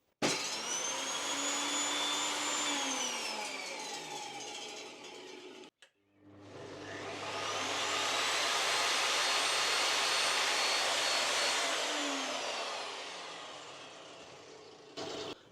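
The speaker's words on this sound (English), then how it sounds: "let's just listen to the start stop on these saws." An Evolution R255 jobsite table saw motor starts twice and spins down, each run a loud rising whine holding steady for several seconds before winding down, with a brief gap between, no talk.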